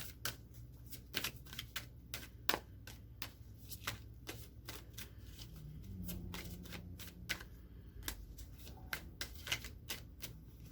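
Chakra Wisdom oracle cards being shuffled by hand, a run of quick crisp riffling snaps and soft slides with irregular pauses, close and quiet with no talking.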